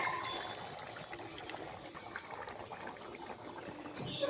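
Taro curry bubbling in a pot over a wood-fired clay stove, a quiet, continuous simmer with small pops and crackles scattered throughout, heard alone at low level.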